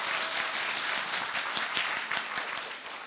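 Warm, sustained applause from a studio audience on a talk show, with individual claps standing out against the steady wash of clapping.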